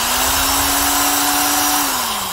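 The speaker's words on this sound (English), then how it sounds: "This is the 350 RPM D-handle drill that Milwaukee discontinued" A discontinued Milwaukee 1201-1 corded D-handle drill with a 4.5-amp motor runs at a slow 350 RPM, giving a steady, loud motor whine with a constant pitch that drops slightly as it winds down near the end.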